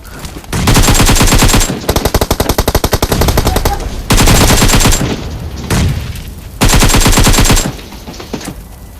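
Automatic gunfire in the PUBG Mobile game, rapid loud bursts with a short machine-gun rattle, repeating in three or four blasts separated by brief pauses.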